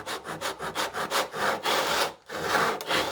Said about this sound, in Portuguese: e vai serrando devagarinho, sempre mantendo o pulso firme e o serrote alinhado